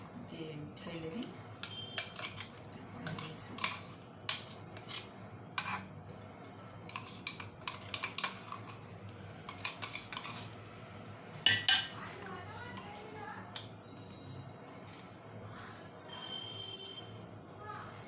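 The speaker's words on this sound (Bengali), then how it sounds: "আমি এটা সুন্দর করে মাখিয়ে নিচ্ছি।" Chicken kebab pieces are mixed with a spice paste in a bowl, giving irregular scrapes and clinks of a utensil against the dish over about eighteen seconds, close and fairly quiet with occasional sharper knocks.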